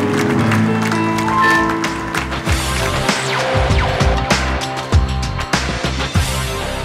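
An audience at a festive company evening for Power Machines staff applauds, clapping rising in waves under music with tonal instruments and percussive hits.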